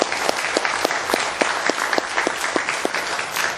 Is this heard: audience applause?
yes